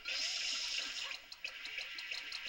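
Rushing, splashing water of a water slide in Super Mario Sunshine, a steady bright stream with small splashes and plops throughout, fairly close and with no talk.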